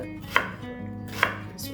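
A knife chopping Spam on a cutting board: two sharp, close knife strikes about a second apart, over quiet background hum.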